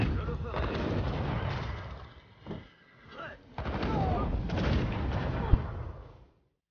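Cannons boom repeatedly in a dense, continuous barrage of game battle noise, with a brief lull midway before the firing resumes and then cuts off.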